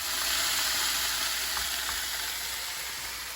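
Bison hash sizzles steadily in a hot pan, a constant close frying hiss with a few faint stirring clicks.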